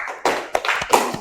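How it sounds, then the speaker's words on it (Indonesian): A classroom of students claps briefly, giving a short burst of close, uneven applause with a few sharp individual claps standing out. "Kita beri aplaus dulu bagi yang sudah bawa."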